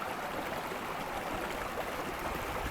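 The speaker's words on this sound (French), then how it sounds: "Et au milieu, il y a un petit ruisseau qui coule." A small stream flows through a forest near a logging area, giving a steady, even rush of water that holds constant throughout without any voices.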